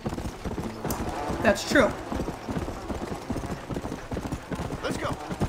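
Horse hooves clip-clop at a steady trot in Red Dead Redemption: Undead Nightmare, with a brief whinny early on, the hoofbeats running continuously under a voice.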